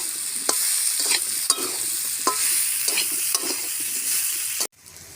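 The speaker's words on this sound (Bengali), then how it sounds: "নুন, ভালো করে আমি কষে নিই।" Ground spices and salt stir-fried in a pan for a Bengali olkopi dalna, a steady close sizzle broken by a series of spatula scrapes, with the sound cutting off abruptly near the end.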